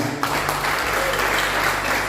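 Worshippers at a Sunday church service clap together, a loud, continuous roar of hands with a low hum underneath, unbroken across the whole stretch.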